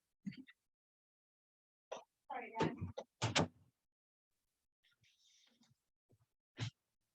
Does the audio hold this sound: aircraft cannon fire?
no